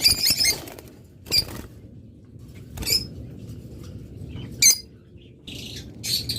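A pair of green opaline budgerigars gives short, bright chirps in separate bursts with quiet gaps between them, fairly close and clear over a low background rumble.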